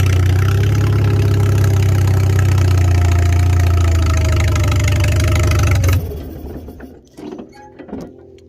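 A 1955 Farmall 300 RC tractor engine runs on choke after sitting for 14 years, a loud rough idle with knocking, then it cuts out abruptly and leaves faint clanks and rattles.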